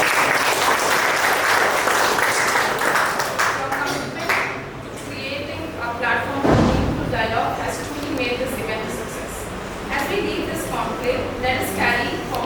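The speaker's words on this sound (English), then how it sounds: "A huge round of applause to the NSON team." Loud audience applause for the organising team at an HR management conclave, dense clapping throughout with a voice and some ringing sounds mixed in, dipping briefly midway before continuing.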